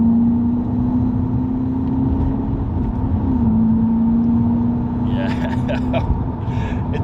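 A 2016 Seat Ibiza Cupra hot hatch accelerates from inside the cabin, its engine giving a steady mid-loud drone whose pitch dips once midway and then holds, with a voice briefly speaking near the end.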